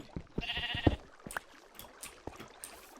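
Sheep in the Minecraft video game give a clear nasal bleat, followed by softer scattered game sounds and clicks, close and moderately loud.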